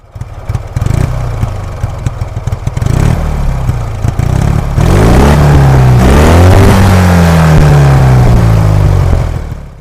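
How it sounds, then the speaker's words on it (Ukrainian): A Soviet M-72 motorcycle engine runs on a stand during hot break-in, loud and close, with irregular clattering at first, then it settles into a rough steady running with the pitch swooping up and down as the throttle changes. "В нас вже час встановлювати двигун. Він в нас вже на стенді для гарячої обкатки."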